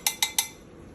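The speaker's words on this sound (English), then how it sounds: "as you see, I'm scooping off the foam." A spoon clinks three times against the pot edge while skimming foam off boiling homemade jelly, quick, sharp and close taps, alone.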